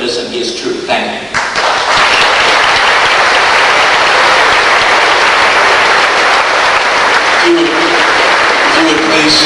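A debate audience breaks into loud, dense applause that swells after a brief start and holds steady at full strength for several seconds, close and continuous.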